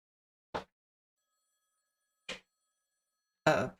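An old payphone ringing in a video game: three short, separate ring bursts spaced irregularly across otherwise silent air, the last one loudest and fullest.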